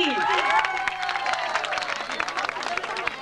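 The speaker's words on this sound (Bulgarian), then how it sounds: "моля аплодисменти!" Audience applause at a children's contest prize-giving, with a dense patter of clapping and some cheering and voices mixed in, sustained and fairly loud across the whole moment.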